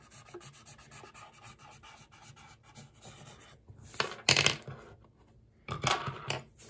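Colored pencil scratching lightly across paper in short, soft strokes, quiet and close, with a couple of louder rubbing bursts near the end and no talking.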